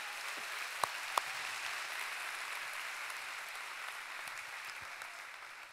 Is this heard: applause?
yes